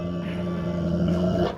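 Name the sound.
dog growling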